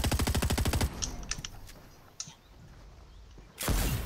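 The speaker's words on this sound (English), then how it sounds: "Keep hearing gunfire in the distance." Gunfire in the video game Fortnite: a rapid loud burst of automatic shots opens and closes the stretch, with scattered fainter distant pops and clicks in between, no talking heard.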